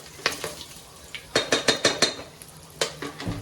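Whole biryani spices fry in oil in a pan over a medium flame, with a quiet sizzle under a series of sharp metallic clinks and scrapes from a spoon stirring against the pan.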